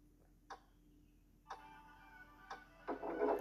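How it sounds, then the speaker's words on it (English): Clock ticks in a horror video game, sounding as sharp, evenly spaced clicks about once per second, moderately quiet against a low steady hum, with a louder rattling burst swelling at the end. "clock is ticking."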